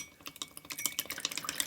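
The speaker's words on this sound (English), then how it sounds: "Mix with chopsticks or fork to avoid air goes into the mixture." Chopsticks whisk a cool egg and ichiban dashi mixture for savory chawanmushi custard, giving quick soft clinking and liquid stirring taps in an irregular close-up rhythm, fairly quiet.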